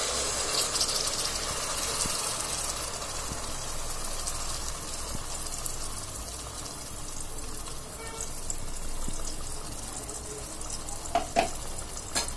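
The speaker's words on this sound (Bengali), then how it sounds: "কড়াইতে আমি তেল দিয়ে দিলাম, এখন মিক্সারটা দিয়ে দিচ্ছি।" Spice paste spitting and frying in hot oil in a wok for yogurt chicken, a steady broadband sizzle running throughout with a few sharper crackles near the end, close and fairly loud, no talking.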